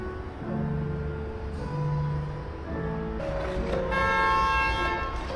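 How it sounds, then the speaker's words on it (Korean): Car horn honks sound in a series of tonal toots from nearby, with a brighter, louder burst toward the end over faint background noise. "왜 빵빵거리니?"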